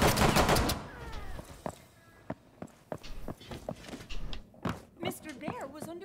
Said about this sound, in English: I just got shot through a wall.